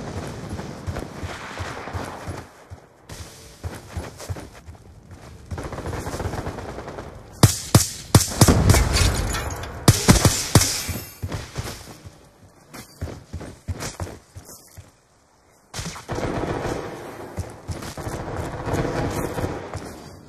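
Hardcore team deathmatch gunfire in Call of Duty Black Ops II: dense bursts of automatic fire and single shots crackle throughout, loudest in the middle, with footsteps and game noise between volleys and a brief drop to near silence.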